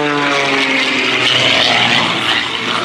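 Propeller aerobatic airplane at an airshow, engine droning steadily near full throttle with a buzzing harmonic whine that swells slightly as it passes overhead, continuous and fairly loud.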